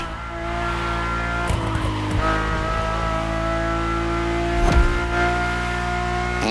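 Engine of a car in The Crew Motorfest racing game heard from the cockpit, a steady loud drone with rich harmonics that rises briefly around the middle and again near the end, running alone without voices.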